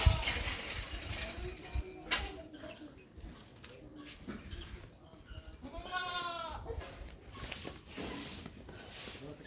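A dairy goat on a large goat farm in Tungwali, Bathinda, gives a clear, wavering bleat midway, amid rustling, shuffling farmyard noise and other faint animal calls close by.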